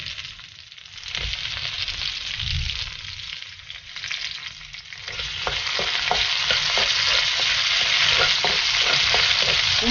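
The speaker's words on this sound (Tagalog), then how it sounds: "lalagay ko na yung bawang for stir fry and sibuyas." Garlic and onion stir-frying in a hot pan, a steady, close, dense sizzle with crackling pops that grows louder and fuller partway through, no talking.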